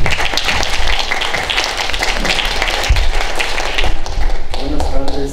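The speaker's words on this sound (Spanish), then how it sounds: "Le damos un fuerte aplauso" Loud applause from a lecture audience greeting a speaker on wildlife management, close and dense with some sharp nearby claps and thumps, fading as a voice begins near the end.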